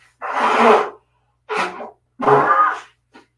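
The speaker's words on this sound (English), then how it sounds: "Pardon me, I'm going to blow my nose." Three loud, breathy blasts through the nose separated by short pauses, followed by a faint sniff, close to the microphone with no talking.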